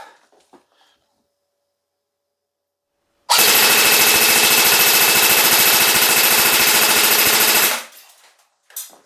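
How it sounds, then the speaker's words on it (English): A Bear River Black Ops SR4 CQ AEG airsoft rifle fires outdoors at a target in one sustained full-auto burst of about four and a half seconds, loud and close, with rapid even buzzing cycles, then stops abruptly. "I'll just shoot until either I run out of ammo or the target falls on the ground."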